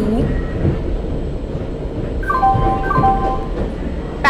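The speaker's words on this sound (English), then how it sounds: "Train number 10201, Goods Express, is arriving at platform number 2." A video game freight train arriving at a station platform rumbles steadily with a low, constant roar, and a few high, sustained horn-like tones sound briefly near the end.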